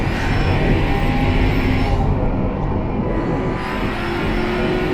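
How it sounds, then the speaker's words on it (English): A car engine in the video game Automation runs steadily with a low rumble and hum, staying constant throughout with no speech, like a game vehicle idling or cruising. "I'm just hearing the car going."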